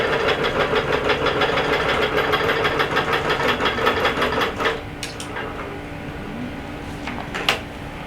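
A longarm quilting machine bastes batting to fabric with a fast, steady mechanical stitching rattle for about four and a half seconds. The stitching then stops, leaving a low motor hum and a few small clicks and taps.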